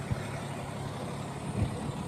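A truck engine idles in a steady, faint low rumble with a few slight bumps, and no voices.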